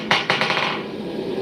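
A hammer strikes hot steel while a parang is forged, one hard ringing blow followed by a quick run of lighter rebound taps that fade into a brief metallic ring, no talk.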